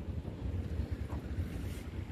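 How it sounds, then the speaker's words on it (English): A small john boat with a trolling motor on the back runs across the water with a low, steady rumble, buffeted by wind noise against the microphone. "Just got a little trolling motor here on the back"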